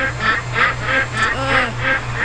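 Ducks honk and quack in a video game, repeated calls in quick succession close by over a steady low game hum.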